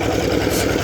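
A concrete mixer machine's engine runs steadily at a road construction site, a continuous close mechanical drone with a low chugging pulse.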